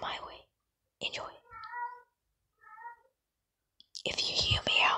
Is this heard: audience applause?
no